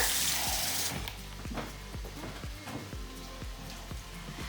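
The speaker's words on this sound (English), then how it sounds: "now I'm going to add just a few ounces of water." Water poured into a pot of cooking vegetables for sweet potato lentil chili, a loud steady rushing stream with rapid sizzling crackles and pops, heard up close and without speech.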